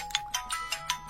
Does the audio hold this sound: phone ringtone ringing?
yes